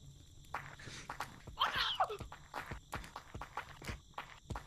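Quiet, regular footsteps in the video game Gorilla Tag tap in a steady rhythm, with a brief louder rustle in the middle.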